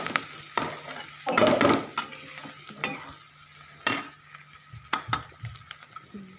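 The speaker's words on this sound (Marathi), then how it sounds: "आणि आता आपल्याला त्याच्यामध्ये हळद टाकून मी हे हलवून घेते" Softened cabbage gets stirred with turmeric in a pan: a spoon scrapes and clinks against the metal in irregular strokes, with faint light sizzling between them and no talking.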